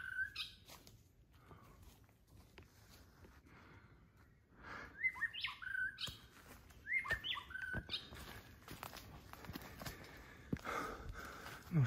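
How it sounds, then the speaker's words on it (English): Unidentified wild bird singing on a forested mountain in Thailand above 400 metres, bright whistled phrases repeated several times at moderate distance over quiet ambient rustling, no talking. "Nice birdsong, no idea what it is."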